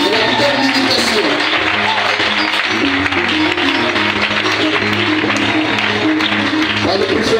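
A church congregation claps and cheers in a loud, sustained burst of applause, with voices and singing-like tones mixed throughout the crowd noise.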